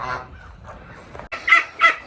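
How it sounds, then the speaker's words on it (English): A duck calls with soft, low murmurs at first, then two short, loud, nasal cries in quick succession close by. "This little duck of mine, I'm gonna let it run."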